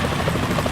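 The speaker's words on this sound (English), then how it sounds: "Is that a chopper I just heard?" Helicopter in the video game Metal Gear Solid 2, a dense, loud, continuous rotor thrum filling a brief moment without speech.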